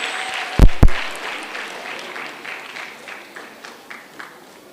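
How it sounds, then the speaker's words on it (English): Audience applause at a Girl Guides centenary celebration for World Thinking Day, a soft spread of clapping that fades gradually, with two sharp loud knocks or bumps near the start. "A big round of applause for Princess"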